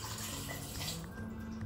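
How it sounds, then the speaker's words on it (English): Stock poured from a pan into a Crockpot Express pressure cooker, a close, steady liquid pour with a continuous splashing stream and some low hum underneath. "we just want to give it a bit of a mix before pouring it into the crock pot"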